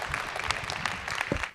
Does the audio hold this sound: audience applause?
yes